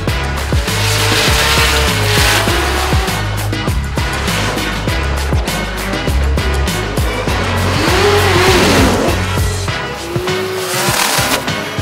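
A drift car with a 2JZ engine at a Formula Drift event, its loud engine roaring steadily while tires squeal in long bursts, close and continuous across the run with no talk.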